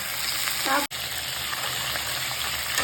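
Brinjal sautéing in hot oil for a Tamil ennai kathirikkai kara kuzhambu gives a steady, close broadband sizzle that continues through the whole stretch, with a brief faint voice early on and a short dropout near the start.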